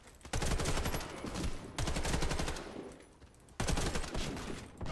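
Dense, loud gunfire bursts from an online shooter game, Warface, in two long sustained volleys with a brief break between, close and continuous with no voices over them.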